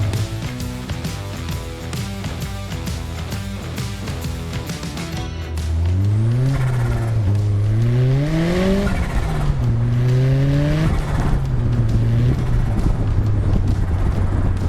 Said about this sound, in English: Notice me short shifting up through the gears there.